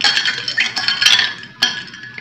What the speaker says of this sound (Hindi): आइस क्यूब ऐड करने के बाद हम इसे थोड़ा सा मिक्स करेंगे